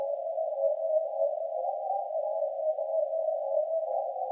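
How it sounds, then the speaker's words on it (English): A subtle, low synth pad in a music production holds one steady, narrow tone throughout, sustained and even without rhythmic change, heard alone with nothing else around it. "is this sort of low pad which comes in"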